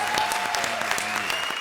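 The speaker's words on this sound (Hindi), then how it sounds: "जोरदार तालियां धर्म की, बॉबी से." A studio audience at a televised comedy show claps in a brief, dense burst of applause that holds steady for under two seconds.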